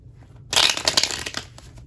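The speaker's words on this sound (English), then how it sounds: "Just gonna give this a quick shuffle." A deck of tarot cards gets a quick riffle shuffle close to the mic, a dense burst of papery flutter and snapping that starts abruptly and lasts about a second and a half, with no talking.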